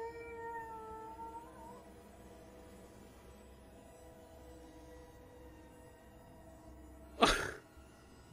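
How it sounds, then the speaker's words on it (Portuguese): Barney the dog lets out a long, wavering howl that slowly slides downward and fades after about two seconds. A quiet stretch follows, then one sharp, loud vocal burst lands near the end. "Tu tá uivando, Barney!"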